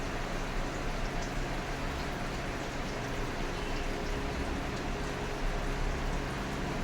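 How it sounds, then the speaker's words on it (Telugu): Ghee in a thick pot keeps boiling and foaming after the stove is switched off, making a steady, close bubbling hiss that stays even throughout with no talking. "ఆ హీట్కి అది మందపు గిన్నె కాబట్టి ఇంకా మరుగుతూనే ఉంది, నురుగులు వస్తున్నాయి."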